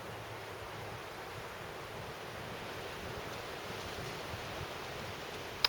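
Steady, soft rushing of wind on a very windy, sunny day outdoors among planted trees, a broad hollow roar with low buffeting and no voices.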